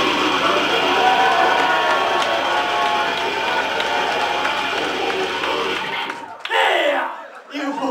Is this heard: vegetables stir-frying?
no